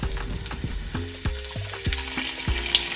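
Hot oil sizzles steadily in a pan while an onion and meatballs are being prepared, a dense close hiss with faint stirring clicks and a low repeating hum underneath.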